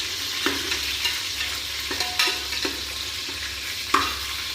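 Tomatoes sauté in a pan for Tamil paruppu saadham, a steady frying hiss broken by the scrape and clack of a spoon stirring at intervals, close and with no voices.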